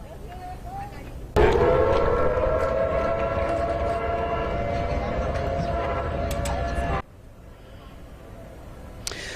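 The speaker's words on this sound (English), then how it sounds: "it wasn't until they heard sirens that that concern intensified." A tsunami warning siren at a California marina wails as one sustained, rising tone for several seconds, then cuts off, leaving low ambient noise.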